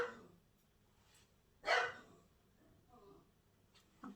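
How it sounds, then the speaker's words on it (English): A dog gives a single sharp bark nearby, with faint fainter yips later, heard indoors during rabbit grooming while a person is briefly heard speaking. "Sorry, that's my dog."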